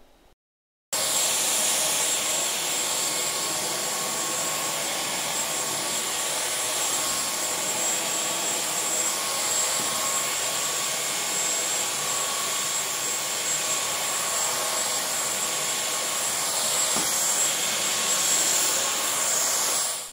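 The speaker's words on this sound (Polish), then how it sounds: "jak możemy bardzo łatwo manewrować tym odkurzaczem i odkurzać na przykład pod meblami" A TechniSat Technimax AS1 upright vacuum cleaner runs steadily while being maneuvered under furniture, a loud continuous whirring hum with a high whine that starts abruptly and holds for the whole stretch, with no talking.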